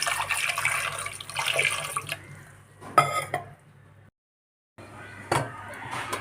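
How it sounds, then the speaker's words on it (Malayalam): Water is poured into a cooker pot of salted sweet potatoes for boiling, a steady splashing stream that stops abruptly, followed after a short silence by more running water. "ഇനി ആവശ്യത്തിനുള്ള വെള്ളം ഒഴിച്ച് കൊടുക്കാം എന്നിട്ട് ഇതൊന്ന് വേവിച്ചെടുക്കാം"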